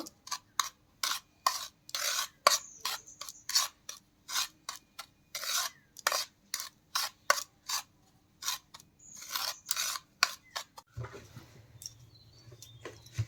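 Toast biscuit crumbs are being mixed with ground black pepper in a bowl, giving steady, rhythmic dry scraping and rasping strokes, close and clear, before a quiet low hum takes over at the end.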